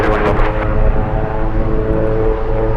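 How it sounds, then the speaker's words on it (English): A cargo Airbus A330 starts up and taxis at Anchorage, a loud, steady broadband engine roar with a low rumble dominating throughout and no speech. "I was going to be starting up and taxiing for takeoff"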